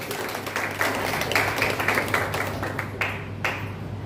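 A crowd applauding at a Buddhist vihara gathering for Chaitra Purnima and Ashoka Jayanti, many overlapping claps forming a continuous rattle that thins out slightly near the end.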